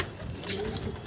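A Shirazi-type pigeon, white underneath, gives a faint, brief coo in a loft with a muffled background.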